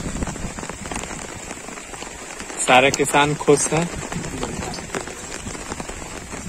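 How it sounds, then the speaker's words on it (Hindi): Heavy rain pours steadily over village rice fields during transplanting, a dense hiss of drops throughout, with someone speaking over it midway. "मूसलाधार बारिश हो रही है,"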